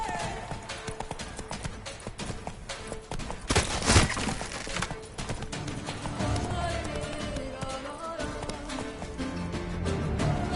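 Roach the horse gallops through The Witcher 3: Blood and Wine, a steady rapid clip-clop of hooves running under continuous game ambience, with one sharp louder hit partway through.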